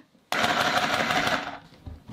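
A mini sewing machine runs in one loud, steady burst of stitching lasting just over a second, then stops into near silence.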